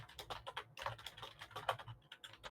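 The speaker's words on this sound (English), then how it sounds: "Oh, I hear sporadic typing." Sporadic typing on a computer keyboard, faint irregular bursts of key clicks with brief pauses between them, heard quietly and alone, with no talk.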